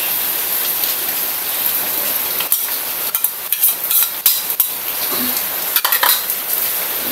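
Corned beef with an egg stirred in a pan, a utensil scraping and clinking against the metal in irregular bursts over a steady background hiss of frying, close and without talk.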